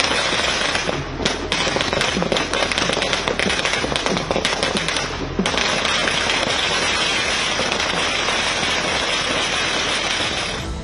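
Firecrackers set off at a celebration burst in a dense, rapid crackling barrage, loud and close, with a brief lull before the popping resumes and slowly thins.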